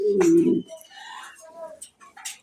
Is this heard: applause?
no